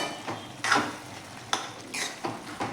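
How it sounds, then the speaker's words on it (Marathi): Capsicum and onion are stirred in a pan, producing repeated scraping and clinking strokes of a spoon against metal at an uneven rhythm over a light sizzle, with no voices. "आता हे व्यवस्थित आपण मिक्स करून घेऊयात"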